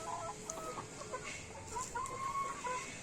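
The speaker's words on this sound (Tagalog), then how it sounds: "Akong mga manok, upgraded chicken." Upgraded native chickens in a small backyard cluck softly at a distance, with short calls and one drawn-out cluck, over a low rustling background and no talk.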